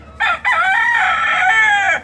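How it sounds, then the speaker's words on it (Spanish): A breeding gamecock of the Indubán line crows loud and close: one long, strained cock-a-doodle-doo with a brief break near the start, then a sustained wavering call that cuts off cleanly. "Este es un gallo también como reproductor de la traba Indubán de don Rafael Pereyo."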